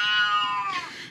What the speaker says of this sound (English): You're gonna have to ignore the cat.